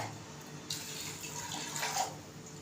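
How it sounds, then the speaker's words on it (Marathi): Water pours briefly into a metal pressure cooker, a soft gushing splash rising and fading over a couple of seconds, close and fairly quiet. "त्याच्यामध्ये एक ग्लास पाणी घालते"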